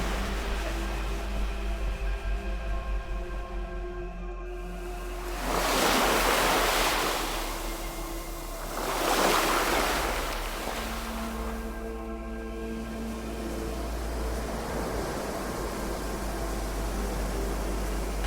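Sea waves wash onto the beach at Mandarmani in two broad, loud surges, over steady wind and a low constant rumble, with no voices.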